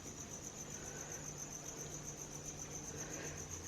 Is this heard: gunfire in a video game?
no